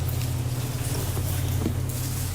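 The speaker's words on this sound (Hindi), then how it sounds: "बारिश है ना" Rain patters steadily on an open umbrella outdoors, a dense continuous drumming close by over a low background hum.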